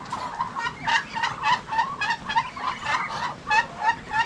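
Turkeys gobble repeatedly in a farmyard, a close rapid series of warbling calls that overlap in steady bursts, with no voices.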